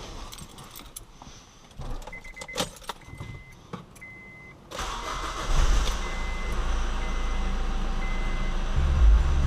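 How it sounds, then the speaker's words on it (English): Keys jingle briefly, then a 2003–2007 Honda Accord i-CTDi diesel engine cranks and catches after an oil change, settling into a steady, loud idle that runs to the end. "let's start up the car and let it run for a few seconds"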